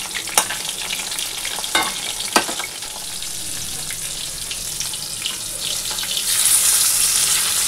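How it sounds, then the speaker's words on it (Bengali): Two pieces of fish and a tail frying in hot oil in a home kitchen, a loud continuous sizzle with occasional sharp crackles and pops, swelling into a hissier burst near the end. "তো আবারও ওই যে মাছ ভাজা বসিয়ে দিয়েছি"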